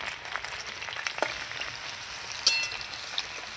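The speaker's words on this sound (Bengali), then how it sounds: "এইভাবে ঢেকে ঢেকে কিন্তু কলা পাতায় মোড়া ইলিশ মাছগুলো ভেজে নিতে হবে আমার সুন্দর করে" Banana-leaf-wrapped hilsa fish frying under a lid over a low wood fire, a faint continuous sizzle broken by a few sharper pops and crackles, heard close up with no one talking.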